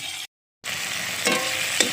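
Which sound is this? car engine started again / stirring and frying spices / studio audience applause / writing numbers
stirring and frying spices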